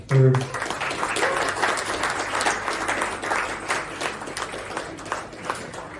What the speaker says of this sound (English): please put a big round of applause for Vibhu, who's going to come take the stage